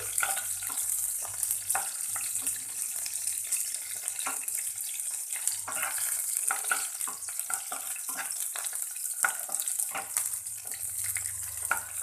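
Garlic and chilli frying in oil in a home kitchen pan, a steady close hiss and crackle with small bursts of spitting, heard alone without voices.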